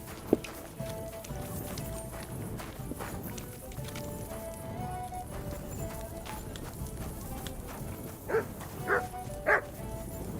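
Three sharp dog barks ring out near the end in Kingdom Come: Deliverance II, after a steady clip-clop of horse hooves and low background bustle.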